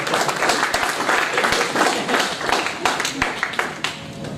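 An audience at a panel discussion on startups in Ahmedabad breaks into loud, busy clapping, many hands overlapping with a few distinct sharp claps standing out through the sustained burst.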